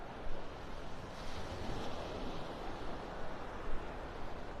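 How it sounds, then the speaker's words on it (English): Ocean surf washes in on Vanderbilt Beach in North Naples, Florida, a steady broadband roar with gentle swells and some wind buffeting on the microphone, with no talk. "I'm on the beach. I'm walking."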